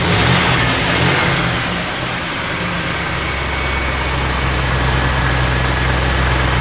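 A 1962 Chevrolet Impala engine idles steadily in park, then revs up with a low rumbling drone that holds at a raised pitch, loud and close, with no voices.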